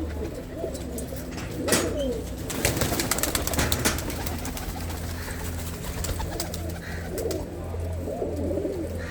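Pigeons coo repeatedly on a pigeon-keeping farm, their low rolling calls rising and falling close by over a steady background hum, with a few sharper flutters and bird sounds mixed in.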